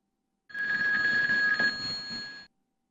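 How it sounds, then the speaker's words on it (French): A telephone bell rings alone in one continuous two-second burst, a bright metallic trill that starts abruptly and cuts off cleanly, used as a sound to guess in a game. "Effectivement, c'est un coup de téléphone."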